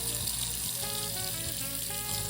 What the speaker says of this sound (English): Why are you filling it with water?